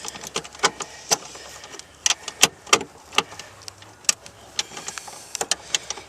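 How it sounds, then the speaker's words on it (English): A 10 mm ratchet works a bolt loose on the power antenna of a Lexus SC430, giving sharp metallic clicks in uneven bursts with short pauses, close and fairly loud with no talking. "we're going to put the 10 millimeter on a ratchet so we can get down here and get a little bit more torque on this bolt"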